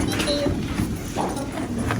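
A pony's hooves clip-clop at a walk in a dressage arena, a close, steady series of soft thuds heard over a broad background hiss.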